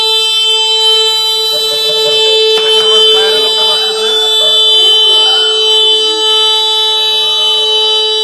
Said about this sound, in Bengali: টেম্পারেচার লেভেল বেশি হলে আমাদের ফায়ার অ্যালার্মটা বাজবে